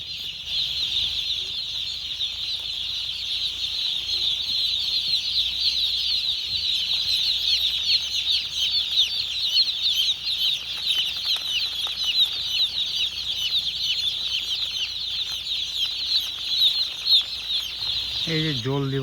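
Chicks and hens in a village poultry coop keep up a constant high peeping and clucking, close and busy throughout, with soft rustling beneath and a faint voice near the end.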